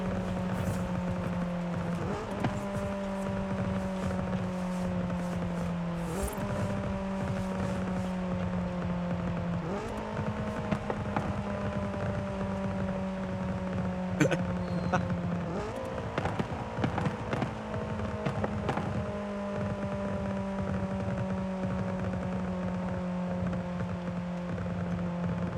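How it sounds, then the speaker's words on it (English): Honda S2000 with simple bolt-on exhaust parts, engine revving and dropping in repeated cycles, with sharp backfire pops and crackles scattered over the drone throughout, loud and close. "I swear it sounds like a war zone of that backfire and pop."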